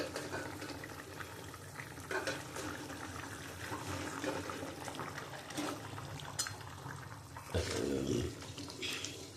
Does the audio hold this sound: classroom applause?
no